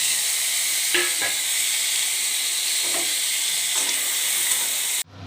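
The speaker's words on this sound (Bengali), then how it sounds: "ছোটো ছোটো করে কেটে রাখা বিম কড়াই আর গাজরগুলো দিয়ে ভেজে নেব" Chopped beans and carrots frying in oil in a wok for winter khichuri: a loud, steady sizzle and hiss throughout, with occasional stirring clinks, cutting off abruptly at the end.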